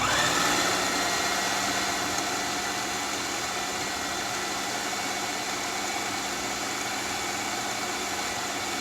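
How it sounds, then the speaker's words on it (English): A food processor blends a rice slurry with peppers and herbs into a paste for khao bua, giving a steady, loud motor whir that runs unbroken throughout. "All right, let's process it."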